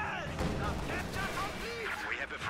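Rapid gunfire from a T-70 light tank shelling German grenadiers at range in a Company of Heroes battle, steady dense bursts running throughout under game sound and a commentator's voice.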